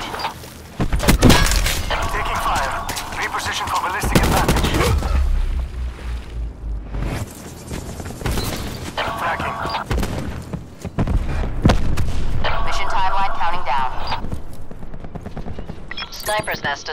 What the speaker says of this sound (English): Sniper's nest destroyed by enemy forces.